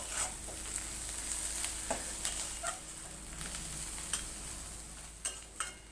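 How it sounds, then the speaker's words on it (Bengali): Dried fish with turmeric and a little salt frying in a pan, a continuous low sizzle broken by repeated light clicks and scrapes of stirring, close and alone. "ভালো করে নেড়ে চেড়ে ভেজে উঠাবো।"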